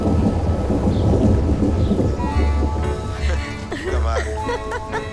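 Steady heavy rain pours with a low rumble of thunder underneath, while voices talk and exclaim over the downpour.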